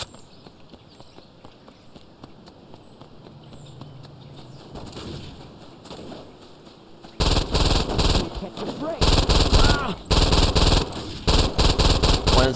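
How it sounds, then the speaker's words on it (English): Rapid bursts of assault rifle fire in Saints Row 2, loud, close and sustained in the second half, chattering in long volleys after a quieter stretch with someone talking over background game noise. "Definitely my favorite assault rifle."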